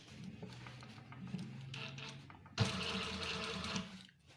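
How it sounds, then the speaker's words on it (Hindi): A sewing machine runs over the back seam of a pair of police uniform trousers to reinforce it, a quiet mechanical whir that stops and starts, then runs steadily in a louder, faster burst close by. "ये अब हम इसको दोबारा पक्का कर देते हैं बैक सिलाई को।"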